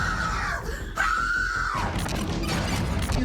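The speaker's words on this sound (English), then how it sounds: "the woman pushes back and lets out a blood-curdling scream" A woman lets out a long, loud, piercing scream amid a tense confrontation near an elevator, the shriek rising twice over a dense, noisy background of commotion.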